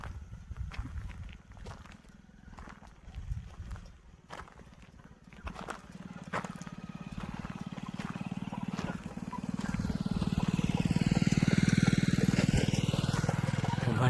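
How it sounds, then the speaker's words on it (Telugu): Vehicle approaches along a road through a forest in Gadchiroli, Maharashtra, its engine hum building steadily from faint to loud and close as someone talks nearby. "అక్కడ ఏదో సప్పుడు అవుతుంది, బండి వస్తుంది."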